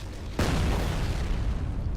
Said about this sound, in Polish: Jeśli odwracam, coś wybucha.